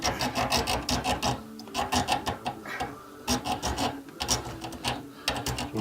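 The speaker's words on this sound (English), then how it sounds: "Kina's cutting the end of the pipe off to fit this new fitting, and of course she's working in a very confined space with hacksaw blade" A hacksaw blade cuts through the end of a washing machine pipe in a confined space under a sink, making rapid rhythmic rasping strokes in bursts with short pauses, close and clear with no talking.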